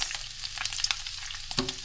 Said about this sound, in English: Put the onions.